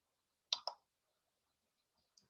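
Two quick, crisp computer mouse clicks close together, then a faint single click after a pause, very close in a quiet room.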